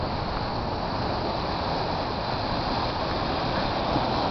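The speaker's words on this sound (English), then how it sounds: "let you enjoy the sound of the waves crashing on the rocky shore here" Waves break on the rocky shore of Lake Michigan in Chicago, a dense, continuous wash of surf with steady wind noise and no voices.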